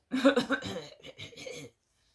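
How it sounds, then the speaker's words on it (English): A man upstairs gives a rapid series of harsh coughs, several in quick succession followed by a few weaker ones, heard at moderate distance and somewhat muffled. "He's coughing upstairs."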